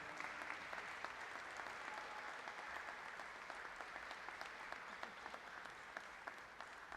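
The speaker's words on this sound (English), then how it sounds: "let's just give another round of applause" Sustained applause from a graduation audience, a dense steady wash of many hands clapping at an even level, with no gaps and no voices standing out.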